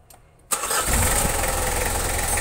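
Mitsubishi Kuda Grandia diesel engine cranks and catches after a short quiet lead-in, then settles into a loud, steady clattering idle that continues without talk.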